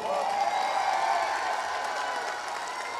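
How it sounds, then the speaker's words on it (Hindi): Steady applause and cheering from a large crowd, sustained and fairly loud throughout. "एक जोरदार और शानदार तालियां खुद के लिए होनी चाहिए।"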